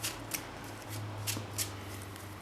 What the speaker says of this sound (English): So you shuffle my cards as usual.